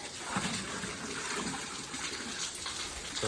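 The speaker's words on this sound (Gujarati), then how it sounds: "તો અહીંયા પાણી ભરવાનું કામકાજ ચાલુ જો." Water pours steadily as containers are filled during light rain, a constant, moderately faint rushing splash with no voices.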